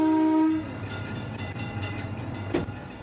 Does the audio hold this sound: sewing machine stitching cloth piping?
no